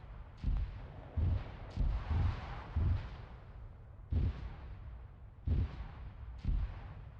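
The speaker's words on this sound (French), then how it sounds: "Faut qu'il ralentisse avec l'artillerie." Artillery fire in the military video game Arma 3 lands in a series of about nine heavy booming blasts, irregularly spaced, each with a rumbling tail, loud and somewhat distant, with no talk over it.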